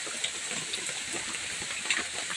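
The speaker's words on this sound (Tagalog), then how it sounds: "Lakas ng ulan." A steady, dense hiss of heavy rain pours continuously on Quezon Province, the Philippines, with no voices.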